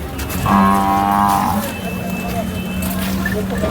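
A single deep, drawn-out low of about a second from a bull at the Sangola bull market in Maharashtra, fairly close, followed by a steady low hum and light background noise.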